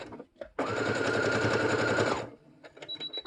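A serger sewing machine stitching a seam on a face mask runs in one steady, fast buzzing whir for nearly two seconds, framed by softer handling clicks before and after.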